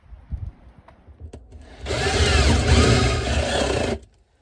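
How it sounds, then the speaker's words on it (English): A few clicks and knocks, then a power drill roars into a wall for about two seconds, loud and close, before stopping abruptly. "I'm going to use this kind of drill"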